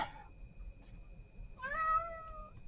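Cat meowing once, a clear drawn-out near meow rising and falling in pitch, following a stretch of quiet room tone.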